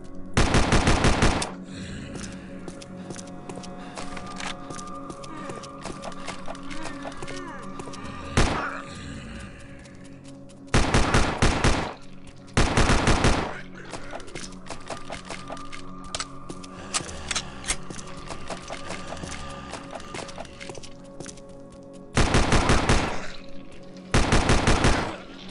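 Gunfire at a gun range in the video game Land of the Dead: loud bursts of rapid automatic shots come in several clusters, separated by stretches of steady game background sound, and a single sharp shot cracks in between.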